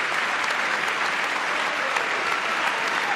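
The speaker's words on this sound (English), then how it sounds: "soak up the applause" Steady, dense applause from a large crowd at a presidential address, sustained and even throughout with no pauses.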